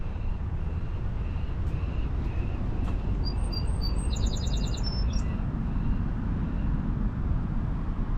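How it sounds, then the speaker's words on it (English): Small birds, likely sparrows, chirp in a short burst of high tweets near Harbour Passage in Saint John, heard over steady low rumbling background noise. "The sparrow."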